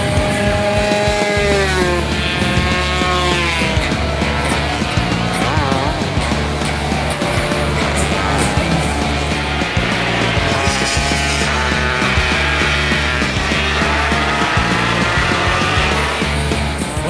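Gang-style motorcycles race at a motor event, engines revving and whining up and down in pitch, loud and continuous, with other engine drone layered underneath.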